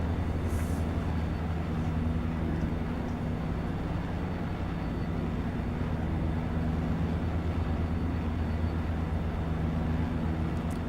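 Southwest A320 airliner landing in a flight simulator game, heard as a steady, loud jet engine roar with a low rumbling drone that holds unbroken throughout, alone without any talk.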